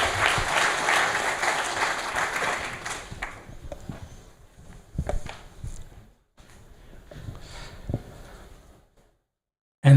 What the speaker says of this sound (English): Please give them a round of applause while they're taking position for the photo.